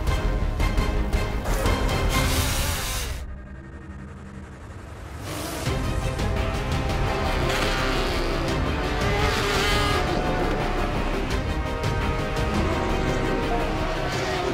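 A Porsche race car on a qualifying lap at Le Mans roars loud and continuous, dipping briefly as if braking or passing a structure before the engine surges back to full power.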